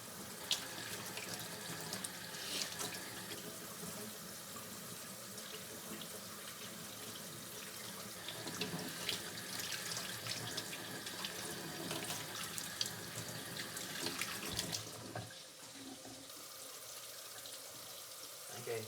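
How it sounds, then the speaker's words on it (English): A kitchen faucet runs steadily as hands are washed at the sink, a continuous near splash of flowing tap water that stays fairly even and briefly drops off near the end. "Alright, I'll just wash my hands real quick."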